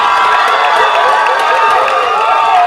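St Margaret's supporters at a girls' field hockey grand final in Christchurch cheer loudly after the final whistle, a dense and continuous wall of shrill shouting and screaming with no break.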